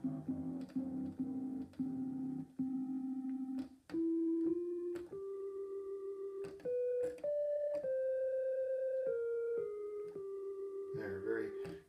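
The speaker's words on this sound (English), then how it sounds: "semi-random modulation going on with that sine wave" A pure synthesizer sine wave tone from a Kurzweil PC3 stepping through sustained pitches, with wavering, semi-random audio-rate modulation and a few clicks and bursts, loud and continuous.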